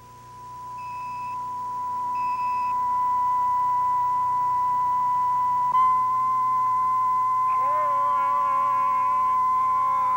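A steady pure 1,000 cycle test tone hums continuously, intermittent, with short higher beeps near the start and a warbling layered tone near the end; no speech.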